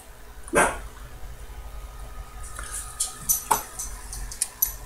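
Dogs barking outdoors somewhere away from a watch assembly bench: one sharp bark, then a flurry of distant, uneven yips and barks, over faint room noise and light clicking.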